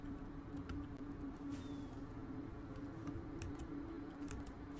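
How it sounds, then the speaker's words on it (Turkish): Scattered clicks of computer keys being struck hard over a steady low hum, quiet and close, with irregular timing. "Orada klavyeyi kırma sesi geldi mi?"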